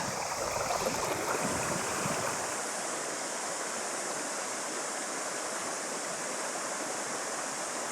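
Clear backcountry stream in New Zealand rushing steadily, a dense broadband wash of flowing water that stays loud and even throughout with no voices.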